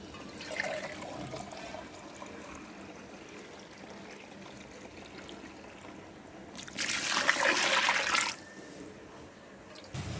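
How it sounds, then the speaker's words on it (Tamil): Quiet background gives way to a brief splashing rush of water being poured into a cooking pot for chicken biryani, lasting a couple of seconds before fading back to low ambience. "இப்போ தண்ணி ஊற்ற போகிறோம்."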